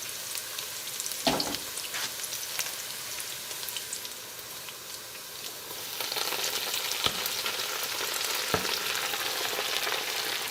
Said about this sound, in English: I am now going to add the greens.